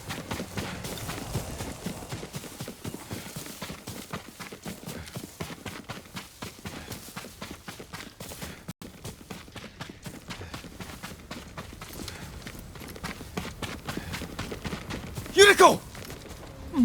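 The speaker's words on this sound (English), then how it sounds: "Yuriko's horse." Horse hooves clip-clop in the video game Ghost of Tsushima, a steady, fast rhythm of light hoof beats that runs throughout and ends in a brief louder clatter.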